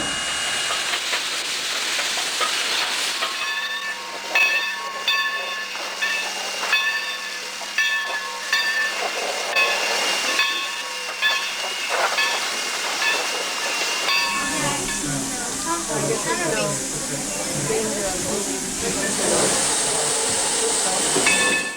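Sierra Railroad No. 2 steam locomotive backing over to the Jamestown water tank, with steady steam hiss and rumbling rail noise throughout, growing louder and busier with heavier chuffing and clanking in the final stretch.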